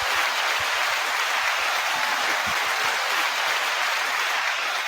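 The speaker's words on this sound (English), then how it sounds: "9-second applause." Audience applause for a guest arriving on a talk show, a steady wash of clapping that holds at even loudness for several seconds with no voices.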